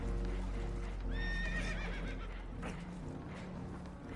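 Spooked horses in Red Dead Redemption 2 let out a couple of shrill, quavering whinnies over a constant low rumble of water and boat noise, with hooves shuffling faintly in the background.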